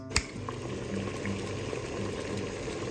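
1.5 litres of water bubbling at a steady boil, a continuous low churning rumble with a sharp clink near the start; no voices.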